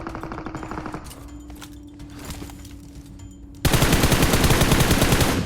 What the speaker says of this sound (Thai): เสียงปืนหน้าเรา